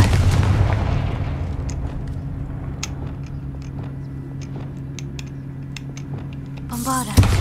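The Confringo fire-blast spell in the video game Hogwarts Legacy goes off with a loud booming burst at the start, then a low rumbling tail and scattered crackles, ending in a sharp swelling flare.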